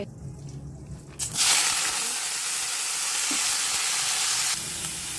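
Potatoes and beans go into hot oil with a sudden loud sizzle that settles into a steady, close hiss of frying and lasts to the end.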